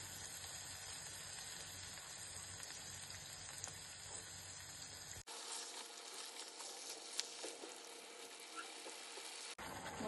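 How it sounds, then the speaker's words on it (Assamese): Marinated chicken for Hyderabadi chilli chicken fries on a medium flame with a steady, soft sizzle and hiss, briefly cutting out and resuming, with no talking. "ইয়াতে মই মেৰিনেটেড চিকেন খিনি দি দিম এতিয়া মই মিডিয়াম ফ্লেমতে এইখিনি কুক কৰি থাকিম"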